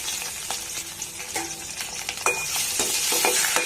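Mustard seeds, cumin, curry leaves and a little turmeric frying in a pan, a steady close sizzle with scattered sharp crackles and light spatula stirs, no voices.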